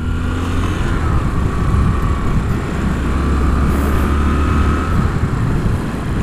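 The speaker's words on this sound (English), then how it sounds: "This rumbling of the engine, it has... how shall I say it? It has character." Yamaha SR400 single-cylinder motorcycle engine rumbling steadily for several seconds, a continuous deep throb with wind-like broadband noise, fairly loud and close with no speech.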